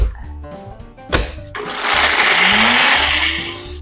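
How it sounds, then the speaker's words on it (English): A countertop blender whirs loudly as it purees lemon juice and vegan Caesar dressing ingredients, starting after a few clicks and knocks and then holding a steady, close, high-pitched roar that slowly fades. "Once everything is blended all nicely in the blender"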